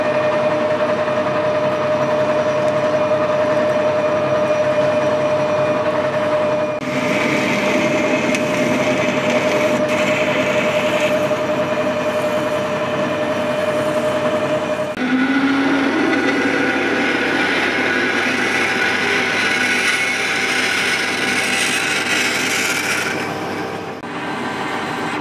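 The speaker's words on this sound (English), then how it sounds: "Next job's to drill the hole" A lathe drones loudly and steadily throughout, with its pitch shifting partway as a drill cuts a hole into metal, close by.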